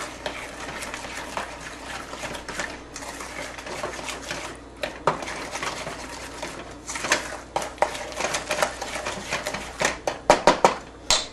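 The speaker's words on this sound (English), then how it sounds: "2 eggs. And thoroughly mix that again" Grandma's chocolate chip cookie dough being thoroughly mixed after two eggs go in, a busy run of scraping, clattering bowl-and-utensil sounds that grows choppier and more percussive toward the end, with no voices.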